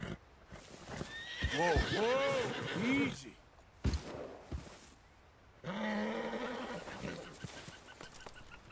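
A horse in Red Dead Redemption 2 gives a long, wavering whinny and snorts, followed by a sharp burst of hoofbeats and another extended neigh, fairly close and clear against a quiet outdoor background.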